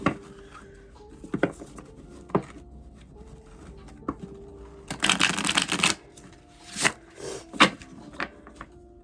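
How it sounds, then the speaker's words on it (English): A tarot card deck being shuffled by hand, with scattered soft riffles and taps early on, then a dense burst of rapid riffling in the middle and several sharp crisp riffle bursts toward the end, close and fairly quiet. "Give it one more shuffle in case I get called to use this one again"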